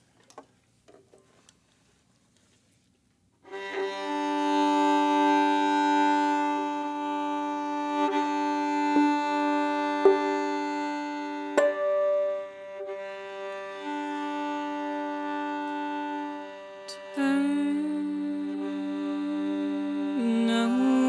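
A live band plays a song in a studio session, with sustained tonal instruments ringing under a few sharp percussive clicks after a short quiet lead-in.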